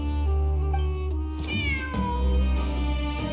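A cat in the video game Genshin Impact gives a drawn-out, rising and falling meow over a steady tonal music bed.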